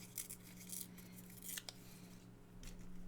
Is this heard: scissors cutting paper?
yes